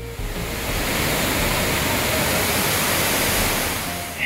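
Chitrakoot Falls, a large waterfall near Jagdalpur, roars as a dense, steady broadband rush of falling water, loud and continuous with no voices over it.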